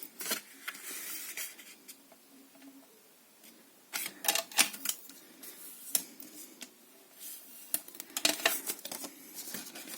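A paper greeting card being folded by hand, with soft crisp crinkles and sharp creasing clicks in irregular bursts, close and fairly quiet.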